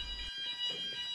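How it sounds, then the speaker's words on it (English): A building fire alarm sounds continuously throughout, a steady electronic tone with a low rumble at the start, loud and alone with no talk. "As you leave, set off the alarm."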